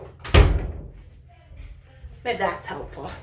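A closet door in a house bangs shut with one sharp, close thud near the start, followed by softer rustling and a person speaking briefly.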